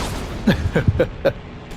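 Rapid rocket launches in the video game Air Conflicts: Secret Wars, four or five sharp whooshing bursts in quick succession, each short and punchy against a low engine drone.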